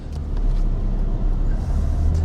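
A Peugeot 207 car pulls away and drives off, its engine a steady, close low rumble with continuous road and cabin noise and no talking.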